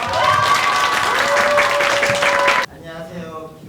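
An audience in a book-concert hall applauding to welcome an author, dense sustained clapping that cuts off abruptly near the end, leaving faint room noise.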